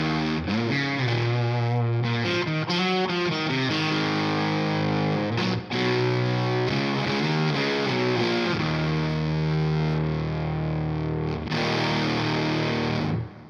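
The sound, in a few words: Beetronics Octahive pedal with pre control turned all the way up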